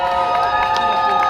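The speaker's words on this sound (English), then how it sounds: "They're cheering for something." A crowd cheering at Universal Studios theme park, a brief burst of distant overlapping shouts and whoops over the steady hum of a busy outdoor area.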